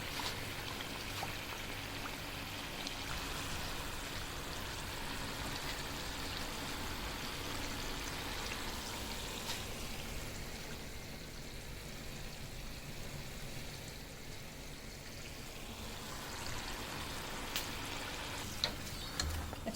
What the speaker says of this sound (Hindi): ये माशाल्लाह से समोसे फ्राई हो चुके हैं।